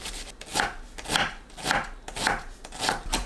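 An onion being sliced into thin strips with a knife, the blade thudding on the cutting board in a steady rhythm of about six even strokes, close up with no talking.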